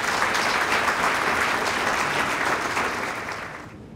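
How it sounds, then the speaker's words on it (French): Audience at a launch ceremony for an African digital schools initiative in Côte d'Ivoire breaks into sustained, steady applause, a dense wash of clapping that tapers off near the end. "je voudrais qu'on l'acclame fortement"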